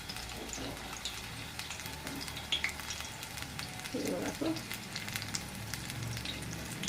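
Crispy spring onion fritters deep-frying in oil and being flipped, a steady close sizzle with clinks and scrapes of the utensil turning them, and a brief low voice partway through.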